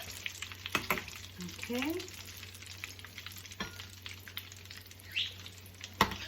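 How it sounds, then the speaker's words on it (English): Potato croquettes fry in hot oil while a strainer spoon moves them around, producing a soft continuous bubbling with scattered clicks and scrapes nearby, and one brief spoken word. "I get my strainer spoon and I start to move them around because you do want them to cook evenly"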